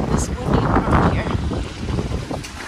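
Gusty wind roars and buffets the microphone in a steady, loud rush between town buildings in Satriano, Calabria, with faint voices mixed in underneath.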